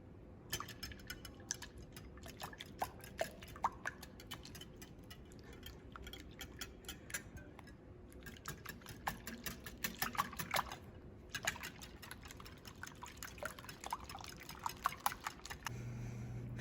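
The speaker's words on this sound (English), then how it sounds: "we are gonna mix this all up using a whisk" A whisk beats an egg mixture for French toast in a bowl with fast, regular rhythmic clicks and taps, in bursts broken by short pauses, quiet and close.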